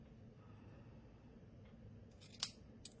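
Scissors trimming paper while making a handmade greeting card, a few quiet snips near the end in an otherwise hushed room.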